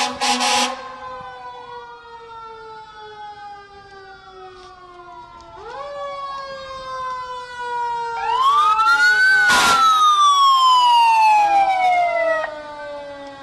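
Multiple police and emergency vehicle sirens wail and rise and fall together during a parade, swelling louder as they approach, with a deep horn blast in the middle.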